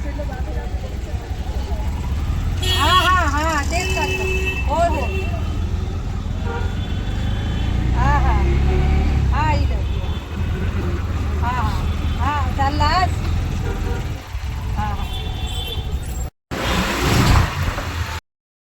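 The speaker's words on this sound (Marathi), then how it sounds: "आता आपण निघालोत रिक्षामधून" Auto rickshaw ride near Boisar station, its engine droning and rattling steadily throughout while people talk inside, with brief bumps and a short dropout near the end.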